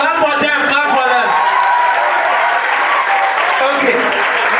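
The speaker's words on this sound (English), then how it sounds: "Clap for them, clap for them." An audience at the Togo National Debate Championships final claps loudly for the debaters, dense close applause mingled with voices and chatter for several seconds.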